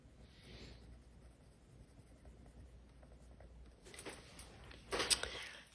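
A Caran d'Ache Luminance colored pencil scratches and rubs steadily across paper while coloring, with soft continuous strokes that grow louder and busier toward the end.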